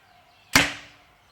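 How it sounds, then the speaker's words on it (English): A single sharp release from a PSE XF30 EC compound bow shooting a light arrow, a crisp snap followed by a short decaying hum, close and alone in quiet surroundings. "You can hear more noise coming out of the bow when you shoot the lighter arrow."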